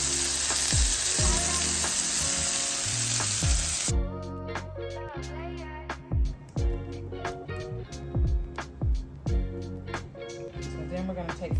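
Jerk salmon frying in a pan over high heat, a strong steady sizzle at first that drops back to a softer crackle with stirring and clattering, while a voice talks over it.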